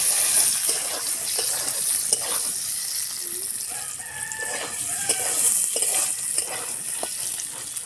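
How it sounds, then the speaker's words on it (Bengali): Eggs frying in a pan for a village-style spiced egg and small potato dish, a steady close sizzle with occasional stirring scrapes and a rooster crowing faintly in the background. "এরপরে ডিমগুলো আমি ভেজে নেব।"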